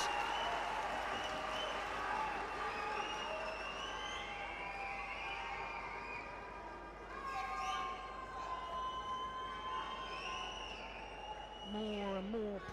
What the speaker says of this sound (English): crowd loving it.